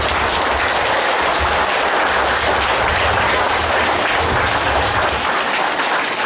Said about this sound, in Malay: Satu tepukan gemuruh kepada Ustazah Fauziah.